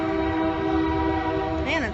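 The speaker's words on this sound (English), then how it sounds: "There's the train. There's the train." A train passes through historic downtown Hillsboro, its horn blaring as a loud, sustained chord close by, bending in pitch at the end over a steady rumble.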